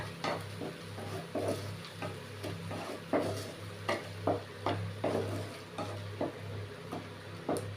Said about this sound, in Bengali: ভালো করে নেড়ে নেব যাতে করে ভালোভাবে এটা হয়